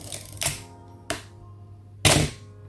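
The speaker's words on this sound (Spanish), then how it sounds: "¿Y cómo suena el obturador?" Film SLR, a Canon AL-1 QF, firing its shutter: three sharp metallic clacks spaced about a second apart, close and distinct over a quiet steady hum.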